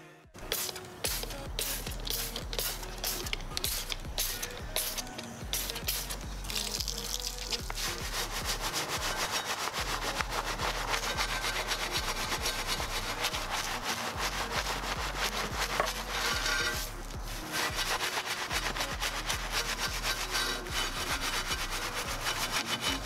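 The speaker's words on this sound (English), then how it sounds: "using a hard bristle brush for the tires" A hard bristle brush scrubbing a foamy tire on a dirty Ford during detailing, a steady close rasping of bristles in repeated quick strokes, with no talking.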